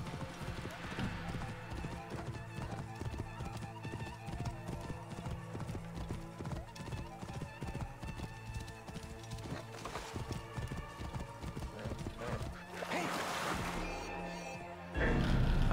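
Continuous clip-clop of galloping horse hooves in Assassin's Creed Origins, mixed with game music and effects, ending with a horse whinny and a louder surge.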